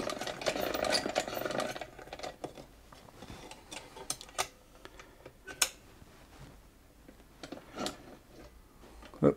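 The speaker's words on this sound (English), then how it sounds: "I'm not sure how long it's been since this machine's been sewing, but there it is, sewing again" A vintage Vulcan toy children's sewing machine sews a chain stitch, giving irregular, fairly faint mechanical clicks and ticks that are busier at first and then thin out into sporadic taps.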